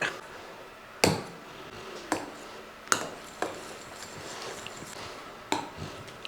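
A spoon clinks against a glass while chocolate ice cream is worked around inside it, with several sharp separate taps spaced irregularly over a quiet background.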